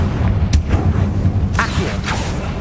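A Confringo spell blast in the Hogwarts Legacy video game, heard as a few sharp booming bursts over a dense, rumbling battle background.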